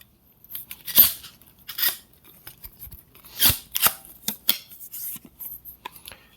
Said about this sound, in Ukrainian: І щоб скласти палицю, потрібно потягнути темляк вгору.